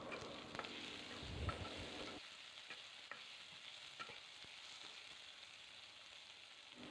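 Chopped onion hits oil left from frying amodi fish and is stirred, a dense sizzle with scraping stirs, louder at first and then settling into a softer, steady fry heard alone.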